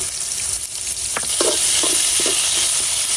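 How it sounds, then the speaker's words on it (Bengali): Chopped onion and garlic with dried red chillies sizzle loudly in a hot pan, with several distinct stirring scrapes and spatters breaking through a constant close frying hiss, no talking. "দিয়ে দিতেছি পেঁয়াজ কুচি, অল্প একটু দিয়ে দিতেছি রসুন কুচি।"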